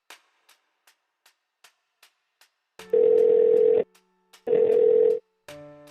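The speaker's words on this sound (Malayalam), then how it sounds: "ഈ മെഹുൽ സാർ എന്താ കോൾ എടുക്കാത്തത്" A telephone ringback tone for an unanswered call, two long steady beeps separated by a short pause, preceded by faint regular ticks and followed by a different tone, with no voices.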